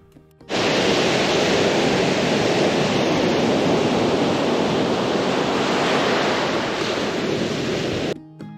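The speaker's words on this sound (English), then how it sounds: "listening to the waves as they're pounding on the beach" Loud, steady roar of ocean surf pounding on a beach on the Yorke Peninsula, South Australia, a broad rushing wash that barely varies before cutting off.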